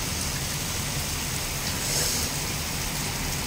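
Heavy rain pours down in a storm strong enough to blow chairs away, a dense, steady roar of drops on surfaces that stays loud and continuous throughout, with a brief swell near the middle and no talking.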